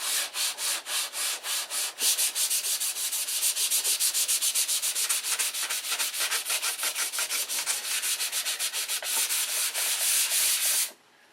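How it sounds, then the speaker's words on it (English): Sandpaper rubs back and forth over a model airplane wing for an electric Thunderbolt, a steady run of close, rhythmic scratchy strokes that quicken in the middle and stop suddenly near the end, with no voices. "That's it. That's one wing sanded out."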